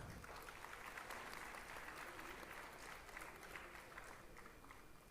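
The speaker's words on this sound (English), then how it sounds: "please can we have a big round of applause?" Sustained applause from an audience in a hall at a graduation-style ceremony, steady dense clapping throughout with faint crowd murmur underneath and no break.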